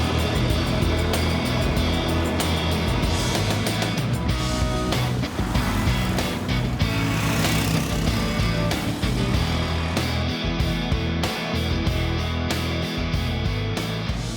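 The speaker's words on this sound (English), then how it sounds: "There is a chainsaw in the background, so sorry about the noise" A chainsaw runs in the background at a motorcycle riding venue, giving a loud, continuous buzzing engine roar whose revs rise and fall over several seconds without speech.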